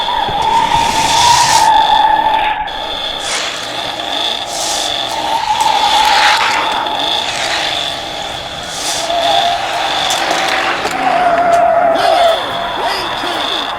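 Hot Wheels toy Batmobiles racing down a plastic track, with rolling whirs, rattles and clacks in bursts across the run, close and fairly loud, under an excited voice.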